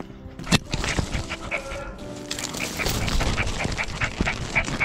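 Several dogs bark outdoors near a mountain home, with repeated barks scattered over a noisy, busy background.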